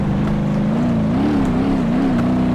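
A BeamNG Drive game car engine runs steadily in slow motion, a continuous low droning hum with slowly wavering pitch, loud and alone with no talk.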